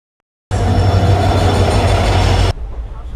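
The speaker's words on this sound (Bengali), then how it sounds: "ঢুকে গেল আমাদের ট্রেন 51417 রাজ্যারানী এক্সপ্রেস।" The 51417 Rajyarani Express arriving at a station, a loud, close, steady roar of rolling wheels and carriages that cuts in abruptly and then drops to a quieter background rumble.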